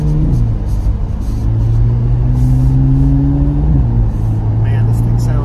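A 2023 Chevrolet Corvette C8 Z06 engine drives in rainy traffic at low revs around 2,000 RPM, a loud, deep, steady burble with gear-change steps in pitch and light background road noise.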